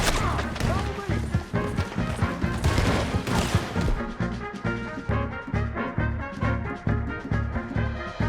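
Dense video-game gunfire from Red Dead Redemption 2 rattles on continuously in loud overlapping bursts, with shouted character voices mixed into the chaotic shootout.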